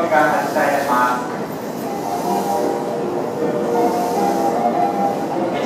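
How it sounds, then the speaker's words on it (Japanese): A train hauled by a DD51 diesel locomotive rumbles and hisses at a Shinbashi platform as it departs for Tokyo, with a station announcement voice talking over the noise. "2番線から東京行きが発車いたします。"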